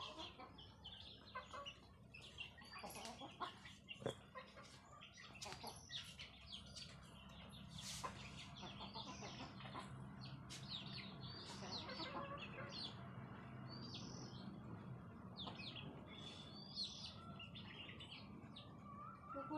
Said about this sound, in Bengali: আমাদের মুরগি